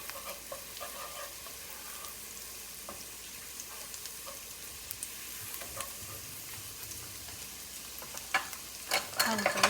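Finely chopped medium onion fries quietly in a pot for broccoli-carrot cheddar soup. A faint sizzle is broken by scraping stirs, with a few louder utensil clatters near the end.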